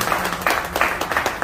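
Loud applause breaks out at a large function in Jaipur to welcome Sumit ji, close-miked clapping with distinct rhythmic bursts rising and falling over a short stretch.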